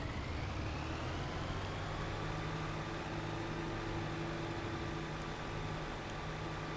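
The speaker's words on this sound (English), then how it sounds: "You can hear the diesel a bit" A diesel tractor engine idles and runs steadily in Farming Simulator 22, a low, constant mechanical drone with a faint whine, heard alone and fairly quiet throughout.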